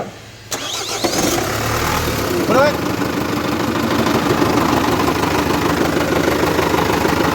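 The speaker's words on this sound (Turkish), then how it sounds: "arabayı çalıştırır mısın?" Car engine with a worn dual-mass clutch flywheel, at about 166,000 km, cranks and catches with a sharp start, then settles into a close, steady, slightly rough idle with a rattling undertone, while a person briefly speaks over it.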